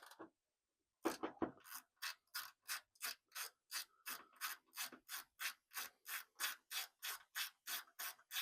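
A hand ratchet tightens the top bolt of a gas hood strut on a 2024–2026 Toyota Tacoma, close and crisp, a short burst of clicks after a brief pause, then a long even series of rhythmic ratcheting strokes.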